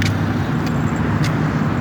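A car passes in light evening road traffic near an accommodation, a steady close engine and tire rumble filling the short stretch with a couple of faint higher clicks on top.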